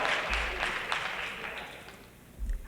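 Applause from an audience at a high school sports awards ceremony, a fairly faint, diffuse spatter of clapping that fades toward the end with a soft thump near the close.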